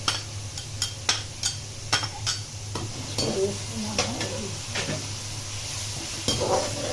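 A spoon stirs tomatoes in a frying pan for Thai fried rice, with repeated scraping taps over a steady low hum and a soft sizzle, and no voices.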